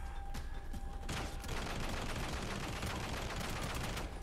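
Dense, continuous gunfire rattles nonstop in The Bourne Conspiracy, loud rapid shots overlapping in a steady barrage with a brief sharper burst near the start.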